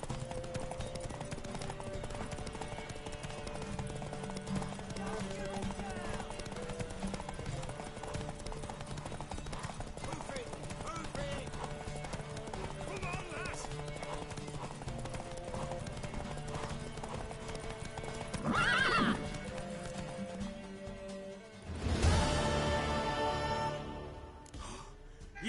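A horse's hooves clip-clop steadily in The Witcher 3, with a louder rustling surge and a neigh-like outburst near the end amid game ambience.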